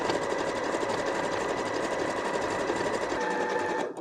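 A sewing machine stitches the edges of a denim mat, a fast continuous mechanical whirr with rapid needle chatter, running steadily at close range before cutting off near the end.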